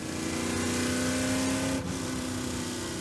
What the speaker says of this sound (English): that car's gonna violate the noise regulations here at Laguna Seca